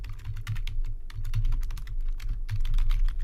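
Steady typing on a computer keyboard while writing in a Google Doc, quick close key clicks in an uneven run over a low room hum, no voices.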